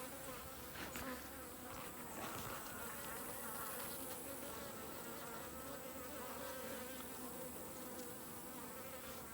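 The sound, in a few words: honeybees buzzing around feed trough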